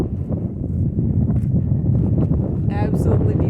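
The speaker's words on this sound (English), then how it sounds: "Just a little bit windy." Strong wind buffets the microphone in Rocky Mountain National Park in a steady low roar, with gusty rumbling throughout and faint higher rustling near the end.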